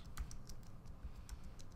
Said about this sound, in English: I could just click on this and then type in, I don't know, soccer